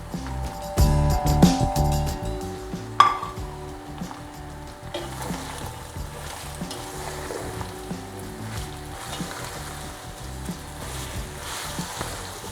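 Sliced onions frying in a pan for Pakistani keema, with a close sizzling crackle, a clatter of stirring and utensil knocks early on, then a steady fry.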